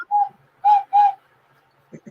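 Three clear, hollow whistles are blown through a smoking pipe, each short and breathy at a steady pitch, followed by soft rustling handling noises.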